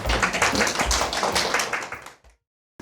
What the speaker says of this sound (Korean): 박수를 한번 환영드립니다